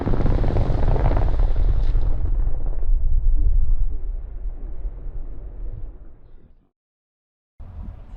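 Explosive detonation set off off-road at a rock crawling event, a huge booming blast that rolls and rumbles for several seconds before fading, then a brief burst of noise after a short silence.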